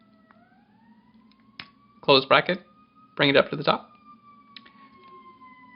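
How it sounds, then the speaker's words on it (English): An ambulance siren passes outside, a faint, steady wailing tone behind someone speaking nearby. "wait for the ambulance"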